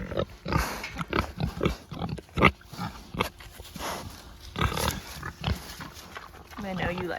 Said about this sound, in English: You guys are good looking pigs.